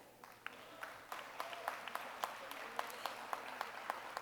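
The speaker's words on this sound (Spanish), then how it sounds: "Por favor, recibamos con un fuerte aplauso" An audience at a human rights lecture claps to welcome the speaker. The applause is faint and somewhat distant, with scattered individual claps standing out over a thin, steady patter. Nobody speaks over it.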